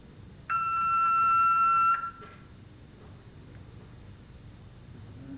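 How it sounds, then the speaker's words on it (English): A single loud electronic buzzer, the one-minute buzzer at a 1988 super heavyweight weightlifting championship, sounds steadily for about a second and a half, then stops, leaving quiet room noise. "Again, you heard the 1-minute buzzer."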